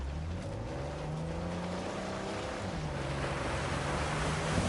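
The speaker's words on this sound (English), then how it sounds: "A secret cave behind a waterfall." A waterfall in the video game Uncharted 4, hiding a secret cave, roars as a steady, broad rushing wash, with a low engine-like drone running beneath it.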